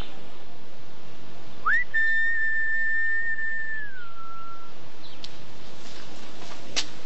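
A person whistles a signal call in the open: one rising sustained note held steady for about two seconds, then dropping slightly and fading, alone and fairly loud with faint background.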